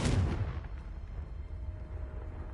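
A Confringo blasting spell in Hogwarts Legacy goes off with a sharp, booming burst at the start, then fades into a long rumbling tail.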